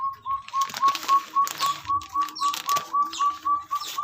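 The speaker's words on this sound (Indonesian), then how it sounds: "Itu suara puyuh gonggong pemirsa" A puyuh gonggong quail, a bird found only in West Java, calls in a rapid run of even whistled notes, about three per second, over faint background rustles and clicks.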